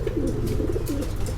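Caged white-faced pigeons with two chicks give a steady low, throaty cooing, close and continuous, with no talking.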